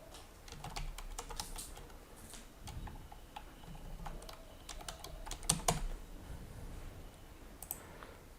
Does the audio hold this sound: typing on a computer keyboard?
yes